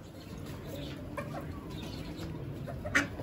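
A black hen clucks softly now and then amid a steady outdoor background hiss, with a sharper squawk near the end.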